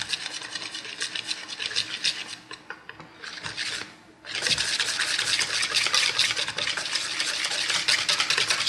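Vegan seafood batter made with club soda being stirred in a bowl, a steady close scraping and rasping with a short pause midway before the stirring resumes strongly.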